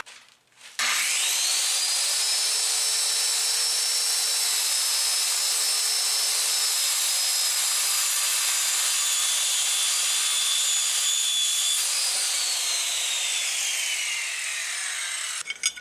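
Cutting 2x2 inch, 1/8 inch thick mild steel angle with a power tool gives a continuous high whining, grinding screech of roughly fifteen seconds, starting abruptly and tapering off as the cut finishes.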